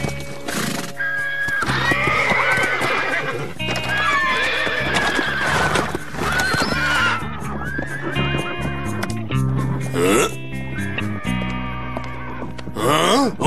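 Horses loose on a ranch in an animated series whinny and neigh repeatedly over rhythmic hoofbeats, loud and close, with several overlapping calls.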